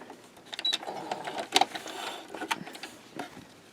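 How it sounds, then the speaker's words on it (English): A home sewing machine stitches quilt block pieces with a quiet, fast mechanical whir and rattle, steady needle chatter in short bursts, close but fairly faint. "I finished sewing the left hand pieces"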